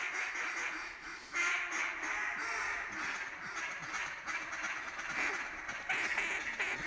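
Mallard ducks, greenhead drakes among them, quack continuously in a wetland during a waterfowl hunt, a busy, fairly distant chorus over a rushing background.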